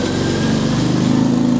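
A carburetted 4.2-litre Jaguar XJ6 engine idles steadily at close range, with a smooth, even hum and no voices.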